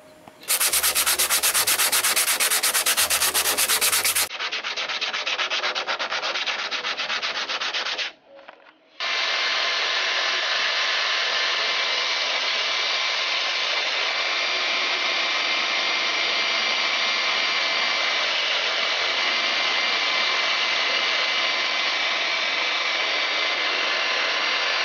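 Power sander grinding surface rust off the metal body of a box Chevy Caprice, a loud, steady abrasive whir that shifts tone about four seconds in, cuts out briefly near eight seconds, then runs on continuously.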